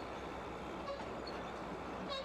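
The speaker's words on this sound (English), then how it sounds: "This eastbound empty auto rack train is headed for Tennessee Pass en route to Pueblo." An eastbound empty auto rack freight train on Tennessee Pass, bound for Pueblo, sounds its horn in a couple of faint, distant blasts over a steady low background rumble.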